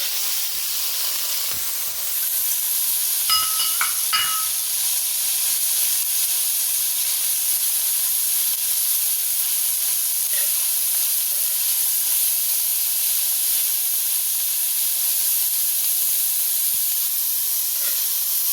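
Carrots and celery cooking in a pan for spicy vegetable fried rice give a steady, even hiss of sizzling with a few faint clinks near the start, and nobody speaks.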